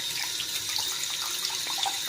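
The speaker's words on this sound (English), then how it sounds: "And I rinse it in not really cold water, but fairly cold water" Fairly cold tap water runs steadily into a sink while handspun yarn is rinsed, a continuous close splashing hiss with no talking.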